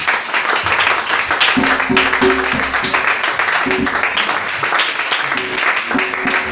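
A church congregation applauds and acclaims Jesus in a loud, steady wash of clapping and cheering voices that fills the room, with musical tones sounding beneath.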